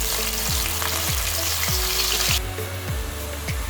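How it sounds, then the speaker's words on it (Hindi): Onion paste frying in hot oil in a pan for chicken handi, a loud, steady sizzle and crackle close up, alone with no voices. "ऑयल हो गया हमारा गर्म। अब इसमें हम प्याज के पेस्ट को डाल देंगे।"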